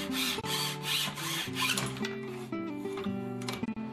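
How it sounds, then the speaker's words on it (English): A hand saw cuts through wooden picture frame moulding in a framing kit, making quick, rhythmic rasping strokes at close range with short pauses between passes. "Bevel one end of the moulding and suspend the saw."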